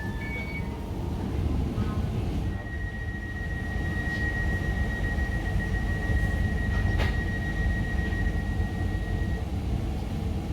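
New Stadler Class 555 metro train running between stations, a steady broad rumble of wheels and motor heard from inside the carriage, with a sustained high electrical whine through the middle and a brief squeal.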